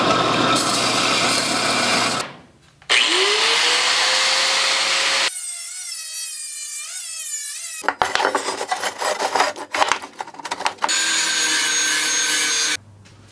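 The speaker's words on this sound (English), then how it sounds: "So off to the belt sander." A belt sander grinds the edges of metal gas tank parts for a Grom E30 build, loud rasping runs broken by a pause, a motor winding down, and a stretch of choppy contact noise.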